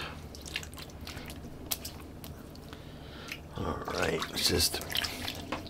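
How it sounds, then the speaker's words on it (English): Water splashes and drips as a man rinses his face at a sink after shaving, the splashing growing busier and louder toward the end, with a brief spoken word early on. "rinsing the face."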